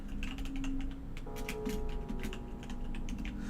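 Rapid clicking of a computer keyboard as someone types notes while playing Silent Hill, a steady patter of keystrokes close by with a faint tonal hum of game audio underneath.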